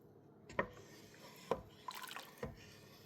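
A thick chickpea tofu mixture bubbles in a pot on the stove, giving a few soft, scattered pops and gurgles that are quiet and well spaced.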